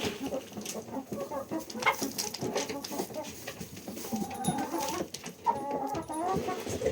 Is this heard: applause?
no